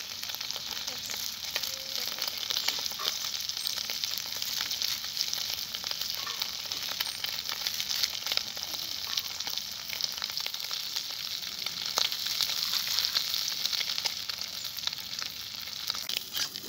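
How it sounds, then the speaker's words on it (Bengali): Amudi fish frying in oil in a home kitchen, a steady, dense sizzle and crackle that runs unbroken and fairly loud throughout, with no voices. "মাছগুলো ভাজা হবে"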